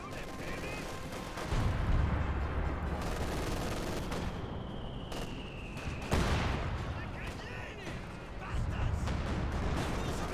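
Grenadiers fire rifles in a Company of Heroes 2 battle, bursts of gunfire and impacts crackling in repeated volleys amid battlefield effects, with a commentator talking over the action.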